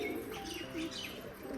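Pet pigeons coo softly in a faint, low murmur, with a few short calls close by and no talking.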